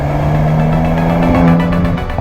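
A 2022 Mercedes-AMG GLC43 twin-turbo V6 revs loud and close, its engine note holding steady tones that shift in pitch as it climbs, with rhythmic crackle through the exhaust toward the end.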